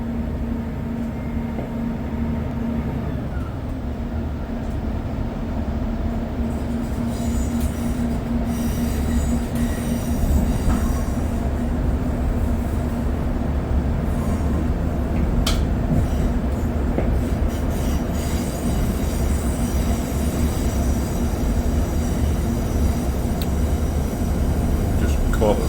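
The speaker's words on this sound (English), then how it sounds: "This is a Great Western Railway service to Greenford." A Great Western Railway train on the Greenford branch in London, heard from on board: a steady rumble and drone with wheel squeal and occasional clicks running continuously throughout.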